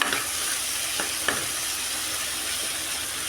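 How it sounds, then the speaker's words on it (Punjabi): Tomato masala fries in a pan while being stirred, a constant close sizzle with a few sharp spoon scrapes and taps against the pan. "ਹਲਾਈ ਦਿਓ ਜਦੋਂ ਟਮਾਟਰ ਚੰਗੀ ਤਰ੍ਹਾਂ ਭੁੱਜ ਗਿਆ"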